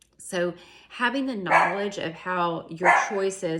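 Dog barking: several sharp, close barks and yips cut in between and over someone speaking indoors, with the dog loudest around the middle and end.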